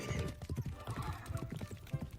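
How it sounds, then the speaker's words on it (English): Hooves of a galloping horse in the Love and Deepspace video game pound in a fast, steady clip-clop rhythm, close and continuous, with a brief whinny-like cry near the start. "Dig my heels into the horse's sides to make it gallop."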